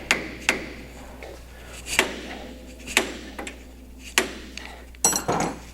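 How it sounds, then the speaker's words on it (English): A hammer strikes the steering linkage of a Ford Mustang in a series of sharp metallic whacks, roughly seven blows at uneven intervals, close and clear with little else around. "With our friendly hammer."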